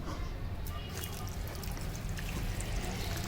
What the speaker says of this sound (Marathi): चला मी आता पाणी टाकून घेते झाडांना